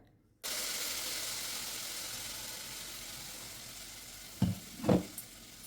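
Mango pulp being stirred in a cooking pan for mango sweet rice: a steady, close hiss of sizzling and steam runs throughout, broken near the end by two short scraping stirs.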